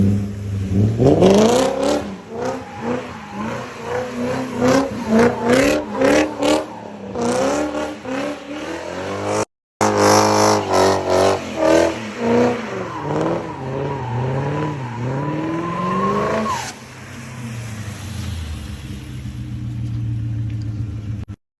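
A BMW car revving hard and accelerating through a run, its engine note climbing in repeated rising sweeps, loud and close, with a brief cut midway before settling into a steady rumble.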